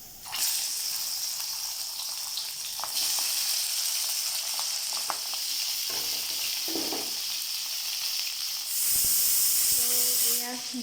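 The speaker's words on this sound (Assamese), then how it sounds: "প্ৰথমে মই মাছখিনি অকণমান গৰম কৰি ল'ম" Pieces of fish fried the night before sizzle and hiss steadily in a hot pan of oil as they are reheated, with a louder burst of frying near the end and faint clinks of utensils.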